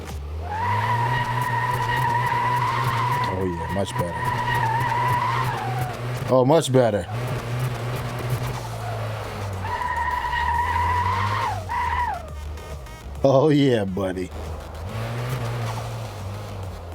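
A car revs and squeals its tires during a nighttime test drive in Car Mechanic Simulator 2026, the engine droning loud and steady with repeated skids and pitch shifts as someone talks excitedly over it.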